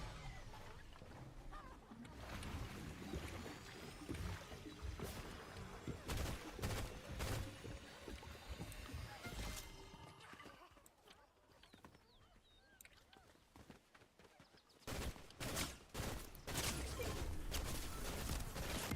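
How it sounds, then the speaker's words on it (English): Rapid video game gunfire in bursts, loud and continuous with a dense mix of effects, easing briefly mid-clip before heavy shooting resumes. "How's that dude shooting me when it's behind me with his bullets?"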